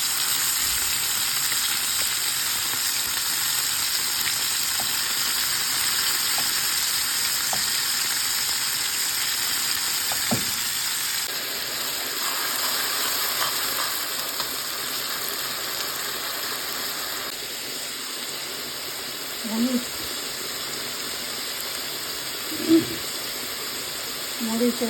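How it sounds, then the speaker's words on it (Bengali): Fish rubbed with salt and turmeric fries in hot oil with a steady, close sizzle and hiss throughout, plus a few brief clatters near the end. "মাছটা খুব ভালো করে ধুয়ে আমি লবণ হলুদ মাখায় এখন এটাকে ভেজে নিব।"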